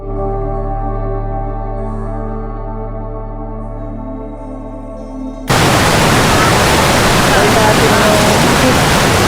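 Cold water of the Hapaw River flows beside Bogya Hot Spring in Hungduan, Ifugao, a loud broadband rush that cuts in abruptly after a stretch of low humming tone and continues steadily.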